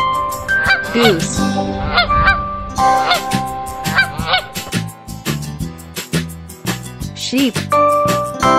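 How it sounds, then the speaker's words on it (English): A farm goose honks repeatedly in a rapid, irregular series of loud, close calls, with faint background music. "Goose."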